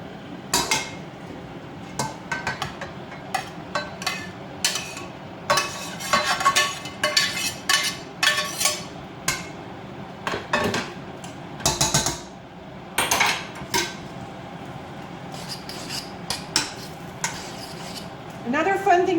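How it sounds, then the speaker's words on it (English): Pasta being stirred and tossed with thawed spinach in a metal pan on the stove: a utensil repeatedly clanks and scrapes against the pan in irregular bursts, close and fairly loud, with faint sizzling underneath. "So I'm going to get all of these mixed together."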